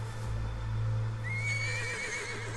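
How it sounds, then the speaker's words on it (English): A horse neighs in Metal Gear Solid 3: Snake Eater, a rising whinny that trails off over a steady low game ambience, with faint hoof-like clip-clop underneath and no speech. "There's the horse."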